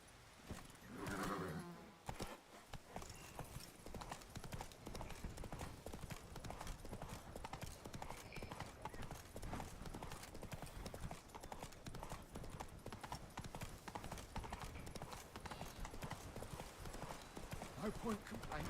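In The Witcher 3 game, the horse Roach walks with steady, evenly paced hoof clip-clops, opening with a brief neigh, while a voice speaks over the footsteps.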